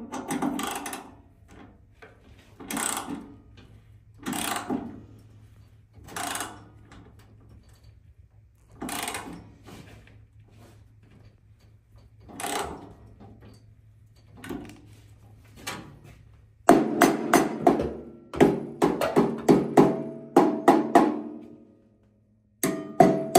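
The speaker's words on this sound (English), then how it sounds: "just tap on that clamp" A metal clamp on a Freightliner One Box DPF filter is tapped in a series of sharp, separate knocks, then a quicker cluster of louder taps near the end over a low steady hum.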